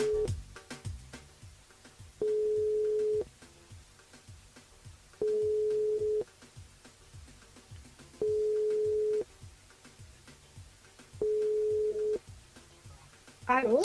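Four evenly spaced telephone ring tones pulse on a radio call-in show switchboard, each about a second long with pauses between, heard fairly clearly over faint background noise and voices.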